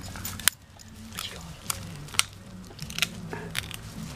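A dog crunches and chews with its jaws, giving sharp, irregular bites and crackling snaps close to the listener, under soft background talk.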